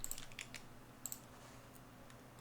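A few quiet clicks sound in short clusters at a desk, sharp and close, separated by brief pauses against a soft background hum.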